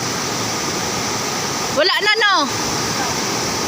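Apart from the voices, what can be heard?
swollen creek rushing water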